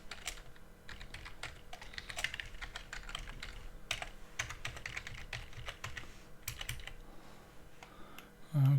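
Soft, quiet taps of someone typing a password on an Android phone's on-screen keyboard, scattered irregular clicks over faint room hiss, with no talking.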